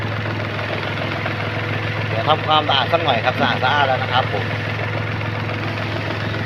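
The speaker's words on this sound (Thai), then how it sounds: "เครื่องเดินดีนะครับ เครื่องเดินเรียบเป็นปกตินะครับ" A manual 2015 Mitsubishi Attrage engine idles steadily with a low, even hum throughout, while someone talks briefly over it in the middle.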